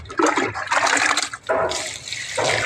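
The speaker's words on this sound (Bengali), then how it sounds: "এখন একটু জল দিয়ে যাই গাছগুলাতে।" Water is poured onto garden plants in a loud, close, continuous splashing stream, broken by short dips as the flow shifts.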